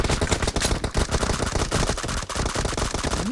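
Rapid automatic gunfire in the battle royale game PUBG Mobile, dense bursts of loud shots fired in quick succession for several seconds with no voices over them.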